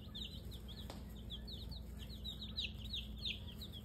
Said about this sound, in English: Chicks galore.